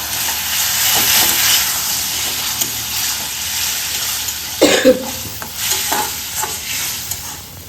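Curry with a little water sautés in a pan, giving off a strong, close sizzle and hiss. Repeated stirring scrapes run throughout, with a brief sharper burst of hiss and clatter midway.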